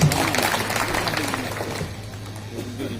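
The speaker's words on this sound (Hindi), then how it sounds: "फिलहाल एक बार ताली आप बजा सकते हैं, जोरदार जी" Audience applause at a Hindi kavi sammelan poetry gathering, a dense spread of clapping from a seated crowd that stays steady then thins slightly toward the end, with a low hum underneath.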